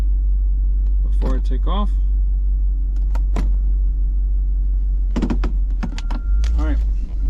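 A car engine runs with a steady, low rumble during a transmission shudder test after a Lubegard Instant Shudder Fixx treatment, while someone talks briefly over it.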